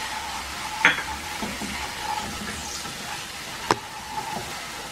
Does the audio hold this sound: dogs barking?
no